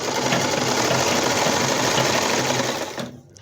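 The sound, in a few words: sewing machine stitching long basting stitches on baby frock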